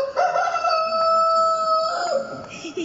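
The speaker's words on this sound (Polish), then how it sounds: "Piękny nasz kogut!" A rooster crows once, a loud, drawn-out call heard at an outdoor fair's opening ceremony, with crowd noise in the background.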